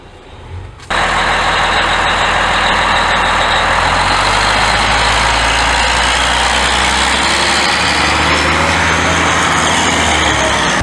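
A heavy Western Star dump truck with Allison transmission starts up and runs with a loud, steady rumble and broad mechanical roar, close by, with no talking.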